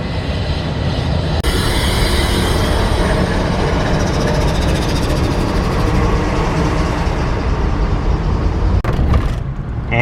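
A train rumbles past close by in Portsmouth, a steady loud roar of wheels and engine that holds for several seconds before easing off.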